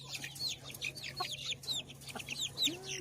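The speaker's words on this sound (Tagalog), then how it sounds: "ito naman ang mga sisiw. Humihingi sila ng pagkain" Baby chicks on a small farm peeping in quick, high chirps, a busy overlapping flurry close by while they beg for food, with a steady low hum underneath.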